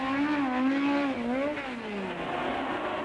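1964 British Grand Prix racing cars pull away from the grid, engines revving high and loud together, pitch rising then falling as they accelerate off and recede over a few seconds.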